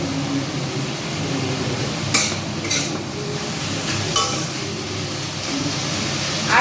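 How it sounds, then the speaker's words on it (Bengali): Leafy greens are stirred in a pan on a stove, with a few metallic clinks and scrapes from the spatula standing out over a steady background hum of cooking noise. "দিয়ে একটু নেড়ে চেড়ে দেবো"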